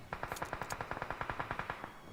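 Rapid automatic gunfire in the BGMI battle royale game, a steady burst of about fifteen evenly spaced shots at moderate distance, with no voices over it.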